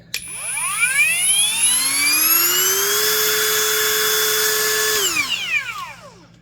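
A Kimo 20V brushless 4-1/2-inch angle grinder with a single gear reduction spins up to a high, whining pitch, holds a steady loud scream for several seconds, then winds down as it stops.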